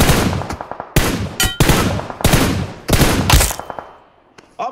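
Loud, close bursts of automatic gunfire in the mobile battle-royale game PUBG Mobile: four or five rapid volleys separated by short pauses, fading toward the end, with no talking.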